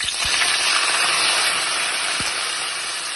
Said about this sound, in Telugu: ఫస్ట్ ఆయిల్లో కరివేపాకు వేసుకోవాలి.